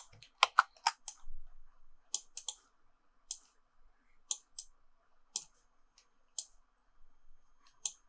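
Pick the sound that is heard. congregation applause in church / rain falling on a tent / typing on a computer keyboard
typing on a computer keyboard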